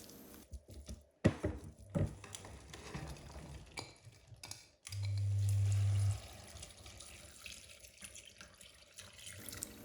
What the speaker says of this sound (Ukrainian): Відправляємо картоплю до підсмажки та заливаємо водою.